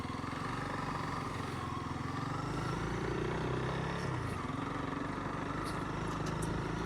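Honda dual sport motorcycle, a CRF300L or CT125, riding a rough trail in Arizona: a steady, continuous engine drone with a slight rise and fall in pitch, close and moderately loud, with no talking.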